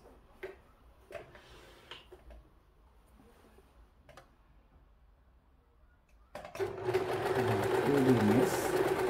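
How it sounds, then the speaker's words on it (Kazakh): A sewing machine stitching fabric, starting up after a few soft taps and clicks and then running in a steady, close, continuous mechanical whir for the last few seconds. "Лаптың бойына айландырып тігіп шығамын."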